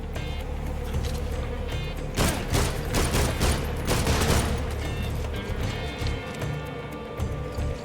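Bursts of rapid gunfire aimed at the player during a boss fight in Metal Gear Solid 3: Snake Eater, loud, dense cracks clustering in the middle over a constant wash of game music and ambience.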